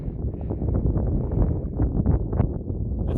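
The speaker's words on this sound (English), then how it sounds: "Winds are definitely gusting." Low rumbling wind on a Colorado mountain route buffets the microphone in uneven gusts, a dull roaring noise that swells and dips with no voices.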